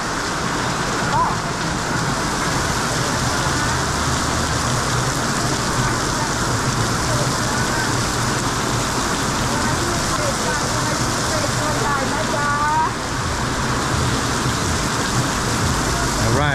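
Heavy rain pours steadily over a covered market lane in Bangkok's Chinatown, a dense continuous hiss and spatter close by throughout, with brief voices in the background.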